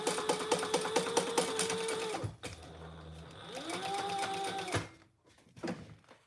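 A sewing machine stitches around the edge of a trifold wallet in rapid bursts, stopping briefly, then running again before a short pause and a final few stitches, close and clear.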